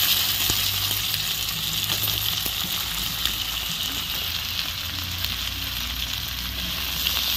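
Potatoes and onion frying in a pan, giving a steady hiss and sizzle with faint clinks throughout and no talk.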